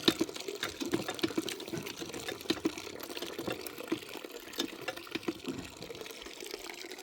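Fresh apple juice from crushed apples trickles and splashes as the pulp is squeezed by one hand. Close, irregular liquid dribbles mix with soft squelches and small clicks, and no one speaks.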